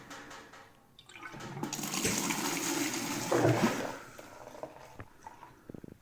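Leftover beer drains from a conical fermenter into a measuring cup, a few seconds of gurgling, splashing liquid that swells and then tapers off, close and without talk.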